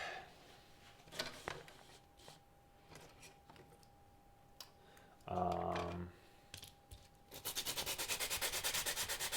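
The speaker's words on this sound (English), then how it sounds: "Rub it over the sandpaper, pretty easy." A Spidey lens shell is scraped over sandpaper: scattered handling scuffs at first, then a quick run of rhythmic, gritty rubbing strokes, close and fairly loud, with no talking.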